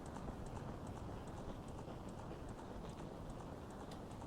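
Rhythmic horse hooves galloping in The Legend of Zelda: Ocarina of Time, a fast repeating clip-clop beat running steadily throughout under game background sound, faint overall.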